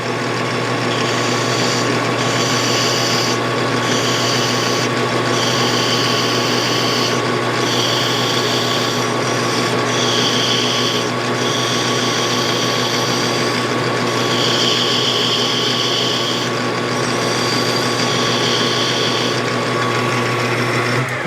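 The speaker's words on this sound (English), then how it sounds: "I'm going to take my burr knife and I'm going to round that" A rotary burr grinding a small metal part for a piston ring compressor, rounding and tapering it in a continuous high whine with repeated short bursts of heavier cutting, close and loud without talk.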